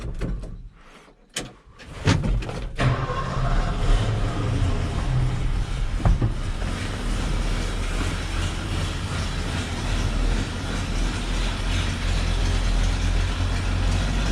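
A Ford F100 truck engine cranks briefly with a couple of sharp bursts, then catches and settles into a loud, steady rumbling idle that continues to the end.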